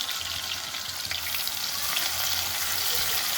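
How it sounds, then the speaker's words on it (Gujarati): Onions fry in oil in a pan while stuffed okra is prepared, giving an even, close hiss of sizzling with faint crackle throughout and no talk. "આપણે ડાયરેક્ટ આ ડુંગળી નાખીશું. ડુંગળી ચડી જાય"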